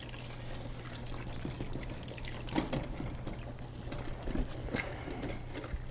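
Chicken stock is poured into a pan of cooking mushrooms in a home kitchen, a quiet liquid trickle with soft drips and occasional utensil taps over a low steady hum.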